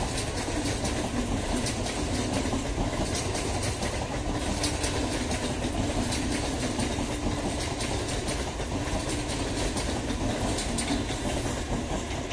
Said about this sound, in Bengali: 31322 ডাউন কল্যাণী সীমান্ত শিয়ালদা লোকাল নৈহাটি রেল স্টেশনে পৌঁছালো।